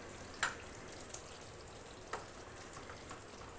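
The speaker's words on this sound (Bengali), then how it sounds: "এবার এতে আমি দিয়ে দিচ্ছি 1/2 চামচের মতো ঘি।" Ghee spooned into a hot, finished potato and pointed gourd curry with peanuts gives a quiet, steady sizzle, with a few soft ticks and pops near the start and middle.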